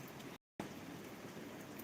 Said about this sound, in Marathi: दर्शक हो पावसाची संतधार सुरूच आहे